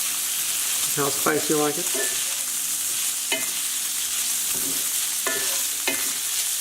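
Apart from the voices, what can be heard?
stirring chili powder into frying beef in a pan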